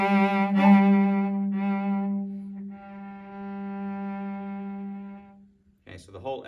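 A cello plays a short excerpt from an orchestra audition piece with a strong rallentando, a few sustained bowed notes played alone that slow and stretch out to a long held final tone.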